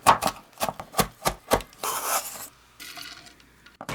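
Tender lemongrass stalks are minced with a knife on a cutting board, a quick series of sharp close chops followed by rasping, scraping strokes across the board.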